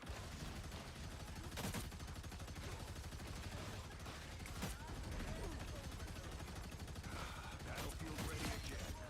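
Sustained turret gunfire in the Marvel Rivals video game, rapid continuous bursts with a few sharper heavy shots standing out, loud and close throughout the clip.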